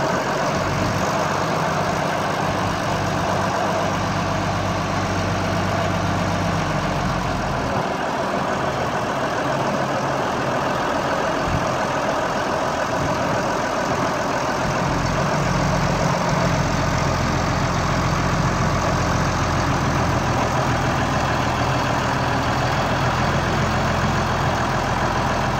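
An IH 4386 tractor's engine runs continuously with a steady, dense mechanical drone and deep rumble, loud and close, holding a fairly constant level throughout.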